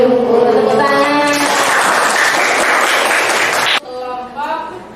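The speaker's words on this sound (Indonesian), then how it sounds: "Tepuk tangan." A group of students at an MTs Nurul Huda Mereng classroom lesson claps together in a loud, dense burst lasting a few seconds, with children's voices heard just before and after.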